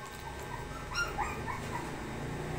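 Small dogs yip and whimper close by in a home, a short burst of high barks over a low steady background.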